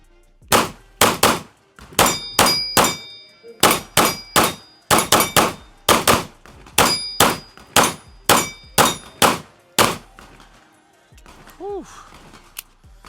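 A Springfield XD-M Elite pistol fires a full magazine at steel targets, each loud crack followed by a ringing metallic clang, in a steady rapid string of about seventeen shots, then a faint fading ring.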